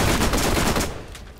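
Turret gunfire in the video game Borderlands, a loud, dense burst of rapid shots that fades out quickly.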